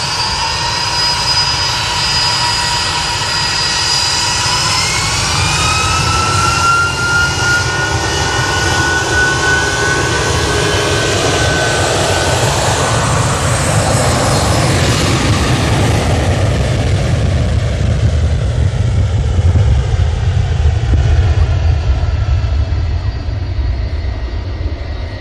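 A TUI jet airliner takes off from Manchester Airport bound for Malaga, a loud sustained engine roar with a rising whine sweeping upward as it powers away.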